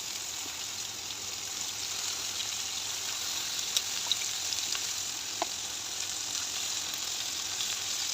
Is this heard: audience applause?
no